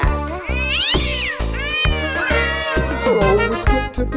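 A cat meowing repeatedly and loudly up close, a string of drawn-out, wavering yowls with short gaps between them, sung over a bouncy musical backing.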